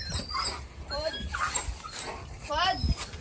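A dog at home whimpers and whines in high, wavering cries mixed with short yelps, close by, while a person talks over it.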